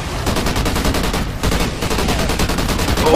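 Rapid automatic gunfire in the Call of Duty Ghosts Extinction game, loud and sustained in quick repeated bursts with a brief pause midway.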